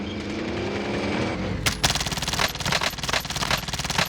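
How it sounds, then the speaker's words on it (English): Automatic gunfire in Call of Duty Warzone, heard after a muffled lead-in as rapid, loud bursts of shots in quick succession for the last couple of seconds. "I'm under fire."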